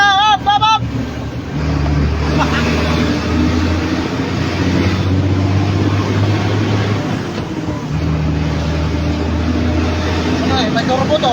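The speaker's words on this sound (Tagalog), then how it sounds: "May turbo to truck namin." A turbocharged truck engine running close and loud, a steady low rumble with rising and falling revs, while people talk over it.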